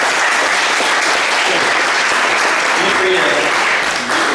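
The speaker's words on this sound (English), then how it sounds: "So let's give the families a round of applause." Loud, dense applause fills a hall at a winter recital as the audience claps steadily for the families, with a voice speaking briefly beneath it toward the end.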